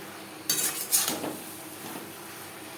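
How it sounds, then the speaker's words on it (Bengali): Chunks of ridge gourd stirred with spices in a metal pot for a pabda fish curry, giving a few sharp clinks and scrapes of a utensil against the pot over a faint sizzle. "মশলার সাথে ধুনুল বেশ ভালো করে মিক্সড করে দেব।"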